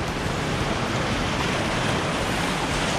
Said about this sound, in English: That was a good wave, another one.